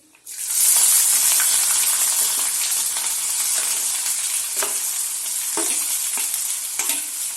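Onions hit a hot pan with whole spices for palak kofta curry with a loud sizzle that settles into steady frying, with occasional stirring scrapes and clicks.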